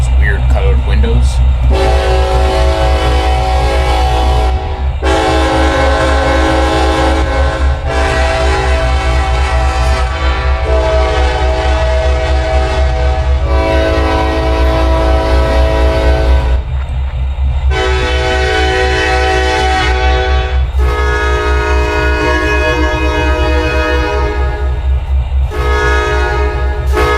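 In Trainz Railroad Simulator 2022, a KCS locomotive rumbles steadily and loudly while its horn blows in several long blasts separated by brief gaps.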